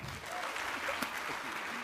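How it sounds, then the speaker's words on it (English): Audience applause at the Association of the U.S. Army Global Force symposium, steady clapping filling the hall for the Army Materiel Command's commanding general, with faint voices beneath. "please join me in a round of applause"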